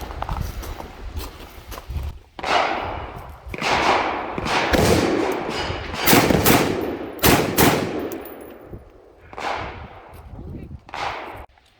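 Rapid pairs of XM16E1 rifle shots fired during a drill at 15 yards, two rounds into each target's chest, ringing out loud and sharp in quick double taps with short pauses between the pairs, no talking.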